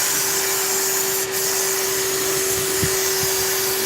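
A spray gun applies primer to a car body, giving a steady, loud airy hiss with a faint constant hum underneath throughout.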